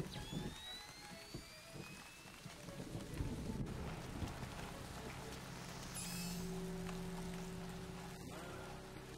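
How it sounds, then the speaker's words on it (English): Steady rain in Splinter Cell: Chaos Theory patters across a surface with a low rumble beneath, a constant wash of drops filling the whole stretch. "It's raining."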